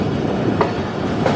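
A passenger train runs along the rails between Hyderabad and Kotri Junction, a steady loud rumble broken by two faint wheel clacks.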